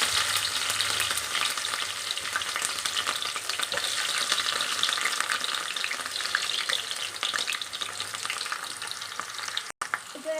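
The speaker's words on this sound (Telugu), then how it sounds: "చూడండి, ఆయిల్ అయితే వేడయింది. ఇప్పుడు మనం కట్ చేసి పెట్టుకున్న పచ్చిమిరపకాయలు వేసుకుందాం." Green chillies and onions fry in hot oil for okra curry, a loud, steady, close sizzle that crackles on without a break for the whole stretch, with no voices.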